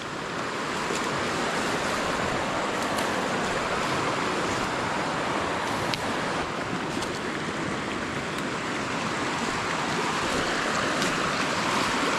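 Continuous rushing water of a river, a loud steady broadband roar of flowing current with no voices, close by and unchanging throughout.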